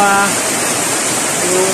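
Heavy rain pours steadily on a farm, a dense broadband wash that stays loud and even throughout, with a faint voice-like tone near the start.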